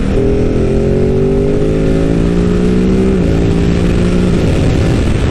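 A Ducati Supersport motorcycle engine droning loud and close, with gliding harmonic pitch steps as it shifts down through the gears, overlaid by heavy wind rush.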